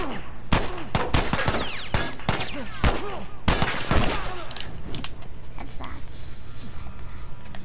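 Gunshots in The Last of Us ring out as a string of loud, separate cracks with echoing tails, close and rapid at first, then thinning out.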